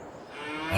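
Cattle on a farm in the Farming Simulator 22 video game give a single short, close moo that swells louder toward the end, with no talking over it.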